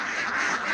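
Ducks on a duck farm give a short, nasal quack, close and fairly loud, in a single brief burst.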